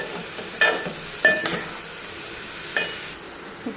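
A spatula stirs chopped capsicum through ginger garlic paste in a hot pan, giving a few separate scraping strokes over a quiet background sizzle, with no talking.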